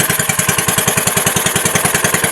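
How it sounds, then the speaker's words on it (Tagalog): A small fishing boat's engine runs close and loud at low speed, a fast, even thumping chug with a rattly, buzzing edge and no speech. "Buti na lang gumana na ang makina natin."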